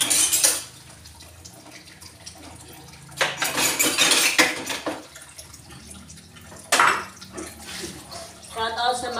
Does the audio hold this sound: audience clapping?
no